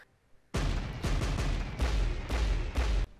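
Gunfire in an Attack on Titan anime episode, a dense volley of heavy, booming shots rolling in overlapping bursts, loud and sustained for a few seconds before stopping sharply.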